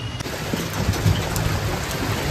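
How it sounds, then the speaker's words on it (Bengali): Heavy rain pours down steadily during a storm, a dense, close hiss of drops drumming on surfaces with no voices. "কি যে ঝড় বৃষ্টির ভেতরে আমি আজকে এসছি সেটা আমিই জানি। আর ঝুম করে বৃষ্টি পড়ছে।"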